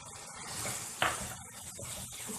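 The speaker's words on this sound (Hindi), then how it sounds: "ये कीमा तेल छोड़ दे इतना भूनेंगे इसे अच्छी तरीके से" Minced meat frying with spices, chilli and yogurt in a pan for aloo keema, giving a faint sizzle with soft stirring scrapes and one sharp utensil clink partway through.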